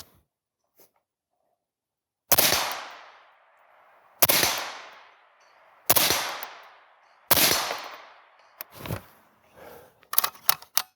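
A rifle fitted with a Rugged Surge suppressor fires four spaced, sharp, loud shots that each ring out briefly, then a burst of quicker metallic clicks and handling noises follows.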